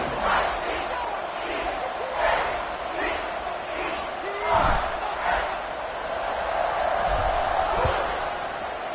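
A college football stadium crowd roars steadily before a kickoff, a loud dense wall of cheering that swells and dips, with a commentator talking over it and occasional thumps and claps.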